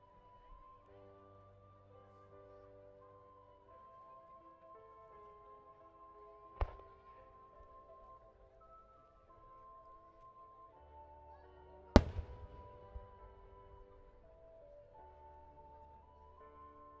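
Two distant firework blasts at the Joso Kinugawa fireworks festival in Japan, far apart, each a sharp boom fading out over a quiet, faintly humming background.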